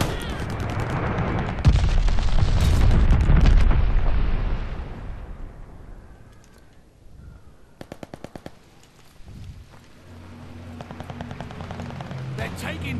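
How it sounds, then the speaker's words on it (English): A glide bomb exploding in Call of Duty Vanguard, a loud rumbling blast with heavy low roar that fades over several seconds, with rapid gunfire bursts and voices around it. "Heads up, enemy glide bomb."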